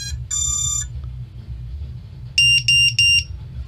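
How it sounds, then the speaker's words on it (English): A drone's electronic buzzer beeps loudly once the battery is connected: a long tone, then a pause and three short, piercing beeps in a row, close and clear over a low hum. "listen to that buzzer."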